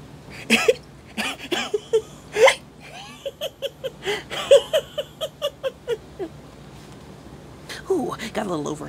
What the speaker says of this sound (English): Looks like I got so overexcited that I got the hiccups.